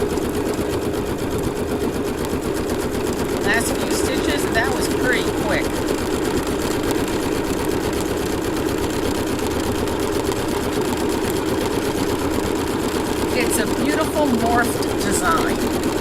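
A Bernina B790 Pro embroidery sewing machine stitches with a steady, even mechanical hum, close by, joined by a few faint ticks and clicks.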